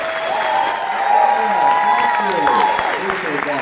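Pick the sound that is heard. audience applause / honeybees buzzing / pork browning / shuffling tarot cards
audience applause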